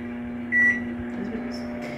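A microwave oven heating milk runs with a steady low hum, a brief louder tone rising partway through, close by and with no one talking.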